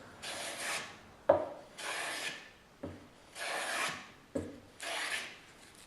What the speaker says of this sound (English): And it's planing.